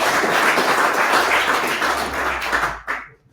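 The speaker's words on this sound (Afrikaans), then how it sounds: "So kom ons gee 'n hande klap vir al die persone." An audience claps for the DVO team at an annual general meeting for the blind. The dense, even applause holds for a few seconds, then thins out and stops with a last scattering of claps.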